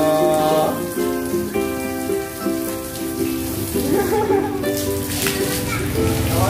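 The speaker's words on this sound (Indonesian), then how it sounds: "mandi hujan." Rain pours steadily onto surfaces with a dense patter of drops while a small child plays in it; people talk over the constant downpour.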